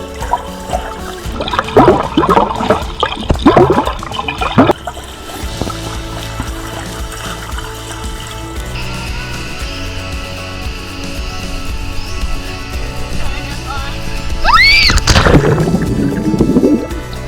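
Water splashes and churns around a swimmer filming with a GoPro Hero9, with bursts of loud splashing early and late, steady watery wash and bubbling in between.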